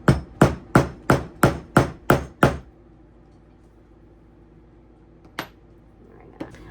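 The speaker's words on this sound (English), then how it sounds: "grab our small setting tool with the dome end over top of the cap with a rubber hammer." Seven quick, evenly spaced blows of a rubber hammer on a dome-ended rivet setting tool, setting double cap rivets in leather, then quiet with two more isolated taps.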